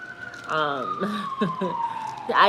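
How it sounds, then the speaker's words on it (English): Emergency vehicle siren wailing outside in New York, a steady descending tone heard at a distance beneath a person talking close by indoors. "if y'all hear the sirens in the back"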